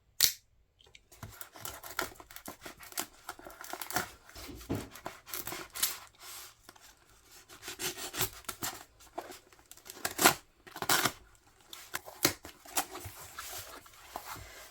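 Package being opened to unbox two puzzle cubes, including an X-Man Ambition 4x4, with scattered snips, rubs and sharp clicks of cardboard and plastic, close and moderately quiet, bursts at irregular intervals, no voices.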